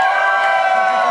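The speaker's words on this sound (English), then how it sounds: "You cheer if he lost." A bar audience cheers together in a brief, loud, steady burst of crowd noise.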